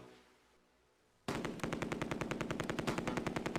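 Sustained machine gun fire rattles in a Close Combat A Bridge Too Far battle at Groesbeek, a loud, rapid, evenly spaced burst that starts abruptly after a near-silent moment and continues to the end.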